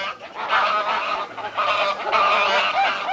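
Ducks honking loudly in a courtroom, a continuous squawking chorus of several birds that dips briefly, then swells again over about three seconds.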